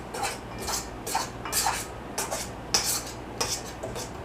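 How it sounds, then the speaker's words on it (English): Scraping and clinking of a dull knife mixing dry gluten-free bread flour in a bowl, in a series of short, close strokes with brief pauses between them and no talk. "It's just a gentle little mixing of your dry things. I do it with my measuring dull knife."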